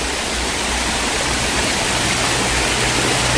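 Sai Yok Noi waterfall, a year-round falls, pours in a steady, dense broadband rush of water that stays loud and even throughout, with no voices over it.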